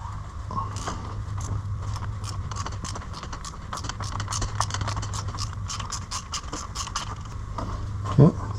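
A ratchet fitted with two extensions and a 27 mm socket clicks rapidly and steadily while undoing a bolt on a Peugeot 206 during servicing, close and alone, with a brief squeak near the end.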